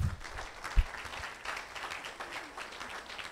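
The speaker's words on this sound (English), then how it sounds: "can we give them a round of applause?" A school safety summit audience applauding staff members, a brief burst of soft clapping from a crowd in a room that fades out within a few seconds.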